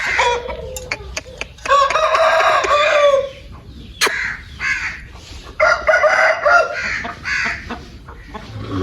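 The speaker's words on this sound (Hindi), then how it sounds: "बहुत ही अच्छा मुर्गा है दोस्तों" An Aseel fighting rooster crows loudly at close range. It gives two long calls, with shorter clucks and cackles around them and one sharp click between. No one speaks.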